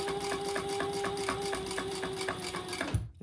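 A sewing machine stitches nice vinyl for a shoulder bag, running in a steady, close, fast rhythmic chatter with a humming motor tone for about three seconds before stopping abruptly.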